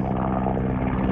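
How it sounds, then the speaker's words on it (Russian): Helicopter droning overhead during a spring outdoor walk, a steady low rotor hum heard alone without any voices. "вертолеты какие-то летают"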